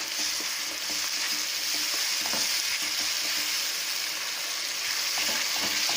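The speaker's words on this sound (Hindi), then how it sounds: "अब हम इसमें टमाटर की प्यूरी डालेंगे" Tomato puree hits sautéed vegetables in a hot pan and sets off a steady, close sizzle, with soft stirring scrapes running through it.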